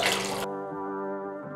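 Water splashes briefly into a pot while making okroshka, a Russian cold soup. It is a short, close pour that stops after a moment and leaves a faint steady hum.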